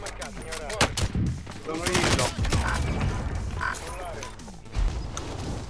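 Rapid automatic gunfire and repeated shots from the Call of Duty Warzone video game ring out loud and dense throughout, with explosive bursts and game effects while a player talks over the action.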